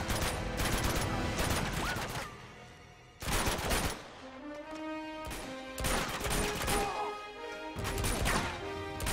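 Gunfire in the Uncharted 2 video game: repeated bursts of loud, sharp shots in clusters separated by brief lulls, with impact crashes mixed in and some quieter gaps between volleys.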